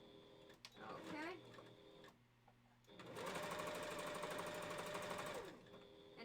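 A sewing machine stitches soft minky fabric around the edges of a wolf partial costume head, running loud and steady for a couple of seconds after a person speaks.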